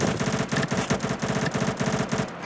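Rapid automatic gunfire from the shooter game Combat Master in battle royale mode: dense, continuous bursts of shots in a steady stutter, loud and close, filling the whole moment.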